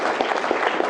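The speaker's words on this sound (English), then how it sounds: "Give me a round of applause." Brief applause from a small group at a crypto market debate, a quick burst of scattered claps, close and fairly loud, lasting only a moment.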